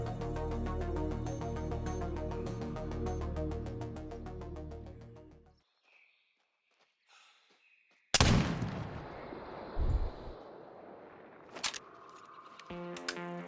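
A .50 caliber muzzleloader fires once in a hunting game while waiting on a buck, a sharp loud blast that follows music and a quiet stretch, then rolls into echoing rumble and a few later clicks.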